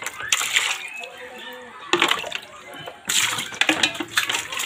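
Water from a tap gushes and splashes into a bucket in loud bursts that stop and restart, with a voice talking faintly under the running water.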